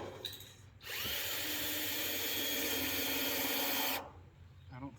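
A power drill driving screws into scrap material whirs steadily for about three seconds, loud and close, then stops abruptly; faint rustling before and after.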